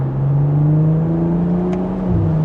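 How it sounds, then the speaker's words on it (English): A 2025 BMW M440i Convertible engine revs steadily with a deep exhaust drone during acceleration, building slightly toward the end; loud and close, no voices. "Can hear a little bit of that exhaust"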